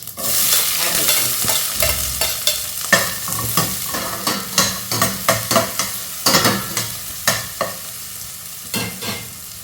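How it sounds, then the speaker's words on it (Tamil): Chopped onion and green chili fry in hot oil after mustard seeds splutter, with a steady loud sizzle and a spoon scraping and stirring the pan in regular strokes throughout. "கடுகு நல்லா பொரிஞ்சோன்னா கட் பண்ணி வச்சுருக்க பெரிய வெங்காயம் பச்சை மிளகாய்"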